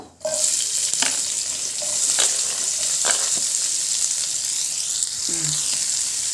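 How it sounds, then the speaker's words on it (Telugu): Chopped onion sizzling in a pan for a dhaba-style egg keema masala, a steady loud frying hiss with a few sharp clinks of a spoon stirring against the pan. "ఉల్లిపాయ వేసుకున్నాము"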